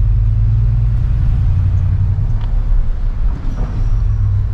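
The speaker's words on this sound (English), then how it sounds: "But I like to hear a little sound with my truck." Ford F250 with a 7.3 gas V8 and a 4-inch MBRP exhaust rumbles steadily on a drive around the block with the windows down, a deep, continuous low drone that holds loud throughout with no talking.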